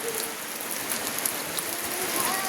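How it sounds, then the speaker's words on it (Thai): Heavy rain falls in a constant, even hiss of countless drops striking surfaces, close and unbroken, with no voices. "ก็ฝนตกจะๆพี่น้องเอ้ยนี่"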